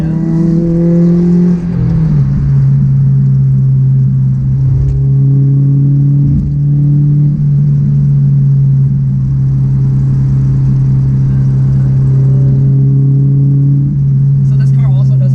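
Honda S2000 CR fitted with an R1000 exhaust, heard from inside the car as a loud, steady engine drone with gear-change dips and rising pulls, while someone talks over it.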